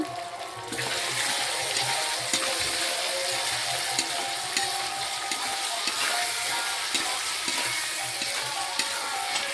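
Country chicken with tomato and spices frying and being stirred in a pan, a steady close sizzle with occasional scraping stir sounds throughout, no talking.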